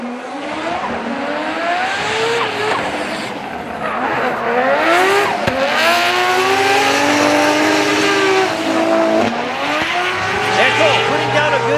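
Drift race cars at Sportsland Sugo in Miyagi run lead and chase with screaming, revving engines and squealing tires, loud and continuous, while a commentator talks over the action.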